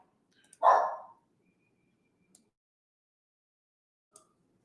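A single loud dog bark indoors, nearby, followed by near silence broken by a couple of faint ticks.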